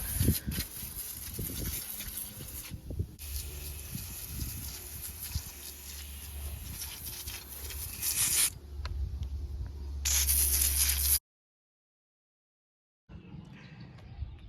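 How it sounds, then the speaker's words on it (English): Long bursts of hissing degreaser spray onto a Bobcat MT52 mini skid loader come close and loud, pausing and restarting, with some handling noise, then a short silence before a fainter hiss resumes. "Now it's time to spray the degreaser all over it."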